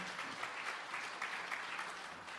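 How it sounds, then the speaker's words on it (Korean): A church congregation at a Thanksgiving Sunday service claps to welcome newly registered members. The brief, steady patter of many hands sounds soft and somewhat distant. "여러분 웰컴 박수 한번 보내주시기 바랍니다"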